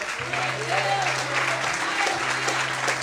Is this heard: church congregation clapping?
yes